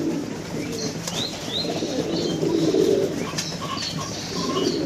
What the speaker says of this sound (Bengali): আর এই কবুতরগুলো খাওয়ার আগে ডাকড়াই করে দেখেন